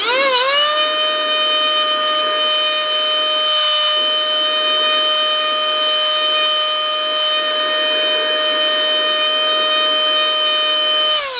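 A 74-year-old miniature steam engine running on compressed air gives off a steady, loud, high-pitched tonal whine with a buzzy edge. The whine rises quickly at the start and then holds constant, close and alone, without any talk.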